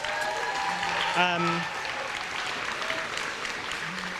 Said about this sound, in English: So big round of applause to the competitors.